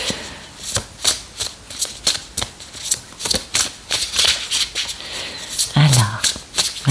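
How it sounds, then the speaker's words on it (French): Oracle cards riffle and flutter in repeated shuffling bursts, then a pile slaps down as they fall, with a voice talking over the cards throughout. "Il y a toujours un tas qui tombe"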